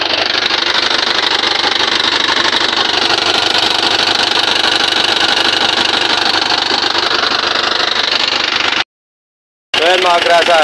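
A 4JB1 diesel engine running away after its turbo failed and pushed oil into the intake roars loud and steady at high revs, then cuts out abruptly before a rougher sound returns.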